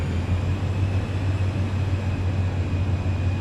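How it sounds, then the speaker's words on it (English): Aircraft engine powering up for taxi in Microsoft Flight Simulator 2020, a steady broadband roar with a strong low hum and faint high whine, continuous and loud throughout with no talking. "Engine sounds like it's pulled up pretty good here, so we're gonna go ahead and power up so we can start turning the plane"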